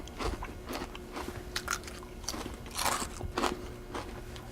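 Repeated crisp bites and crunches of a brittle homemade fortune cookie, close and fairly loud, with sharp cracking bursts and chewing between them, no talking.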